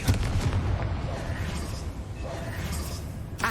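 A Confringo blasting spell in Hogwarts Legacy goes off as a dense, rumbling explosion that fills the moment and tails off, with a sharp crack at the end.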